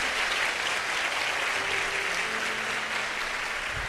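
Church congregation applauding during a Portuguese-language sermon, a steady, dense wash of clapping that holds at an even level throughout, with faint low hum beneath.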